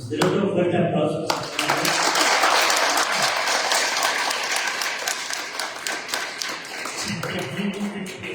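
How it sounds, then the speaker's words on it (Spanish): A church congregation in Puerto Vallarta applauds again during a morning service, dense, loud clapping from many people rising quickly and holding steady, with a voice speaking at the start and end. "Denle otro fuerte aplauso."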